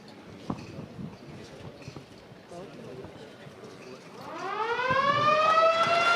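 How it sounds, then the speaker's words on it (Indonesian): Quiet voices and light clatter give way to a ceremonial civil-defense siren at an influenza pandemic simulation in Indonesia, its wail rising sharply and growing loud in the final seconds. "tombol sirine sudah ditekan oleh Menteri Kesehatan Republik Indonesia"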